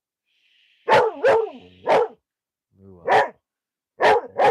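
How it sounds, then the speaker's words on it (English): Dog barks close by in short bursts, a double bark, a single, another single and a final pair, with a faint whine between them and a brief spoken word. "No barking."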